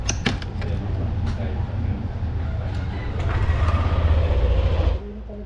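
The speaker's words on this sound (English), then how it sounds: "i-start ang motorsiklo guys" A motorcycle in a queue for registration renewal rumbles low and close, swelling louder about halfway through before dropping off abruptly near the end.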